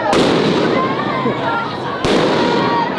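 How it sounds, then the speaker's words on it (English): Flashbang grenades exploding over a street protest crowd in Los Angeles, two sharp loud bangs a couple of seconds apart, each followed by a lingering crackling roar amid crowd noise and voices. "they're deploying tear gas and flashbang grenades above our heads"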